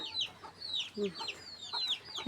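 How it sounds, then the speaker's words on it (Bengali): Several chickens cluck and squawk nearby in short, overlapping bursts, a busy flurry of fowl calls. "হাঁস মুরগি ছাগল যা আছে সব বাড়িতে তুলতেছে"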